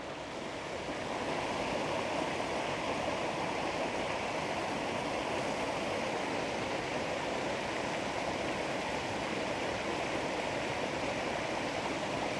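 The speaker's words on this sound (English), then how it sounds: "let me get a close shot of this water, guys" Crystal-clear stream flowing near a waterfall, a steady broadband rush of water that holds constant throughout with no talking.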